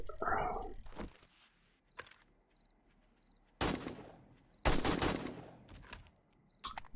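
Several bursts of rapid gunfire crackle in 7 Days to Die, each lasting under a second, separated by quiet stretches with faint background tones.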